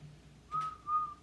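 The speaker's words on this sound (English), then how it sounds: "Whistling never helps me, but sometimes it calms the nerves." A person whistles a few soft, clear notes close by, two brief tones with quiet pauses and no talking.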